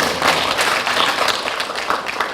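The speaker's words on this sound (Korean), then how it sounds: "예, 좋은 기획이신데 박수로 격려 한번," Audience applause at a lecture event, a steady dense patter of many hands clapping throughout without a break.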